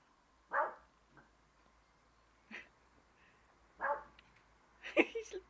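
A dog barks close by, four short separate barks spaced a second or two apart, the last one followed by a few quick yips, with quiet gaps in between.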